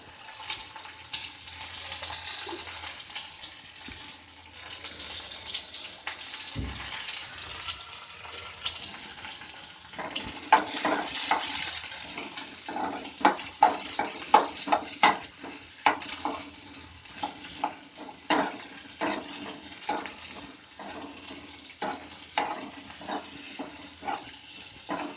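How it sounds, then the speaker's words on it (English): Chopped onions fry in a pan for vegetable fried rice, a quiet sizzle that grows busier partway through with irregular stirring scrapes and clicks. "I'm going to put in all the onions, all the chopped onions"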